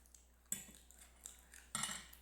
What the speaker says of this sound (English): I'm sort of scraping the flavor out of the bowl